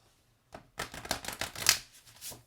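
A deck of thick, flexible cards is shuffled poker-style for a moon ritual draw, with a short burst of quick riffling flutters and taps lasting about two seconds, close and fairly quiet.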